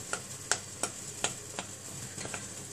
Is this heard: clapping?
no